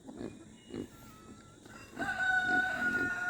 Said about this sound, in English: Chicken and cat playing.